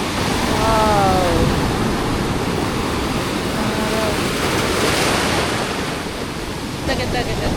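Strong sea waves surge and crash steadily at a beach in Bacungan, a loud, broad wash of surf close by with wind buffeting the microphone throughout.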